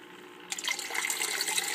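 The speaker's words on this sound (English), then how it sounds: "The water should start flowing." Water bursts into flow as a weathering lab pump switches on, moving from near quiet to a continuous close rushing trickle with no voices.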